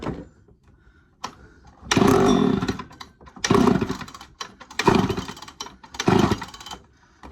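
An early Poulan 245A chainsaw engine, idle turned up while being tinkered with, revs in four sharp bursts with short drops back to a low idle between them.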